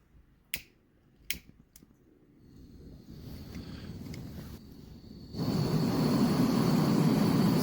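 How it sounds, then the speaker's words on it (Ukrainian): A few sharp clicks of an igniter, then a soft gas hiss builds and swells into a steady, louder roar of a portable gas camping stove burner, a Pinguin Trek or Fire Maple FMS-102. "тепер я увімкну цей пальничок і будемо з вами дивитись, як він реагує на вітер"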